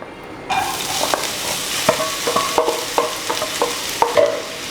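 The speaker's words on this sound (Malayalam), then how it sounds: "അപ്പോൾ ഓയിൽ നന്നായി ചൂടായി വന്നിട്ടുണ്ട്. ഇനി അതിനകത്തോട്ട് സവാള ചേർത്ത് കൊടുക്കാൻ പോവാണ്." Sliced onions drop into hot coconut oil with a loud burst of sizzling that keeps going, while a utensil scrapes and clinks against the pan in repeated stirring strokes, close up and with no voices.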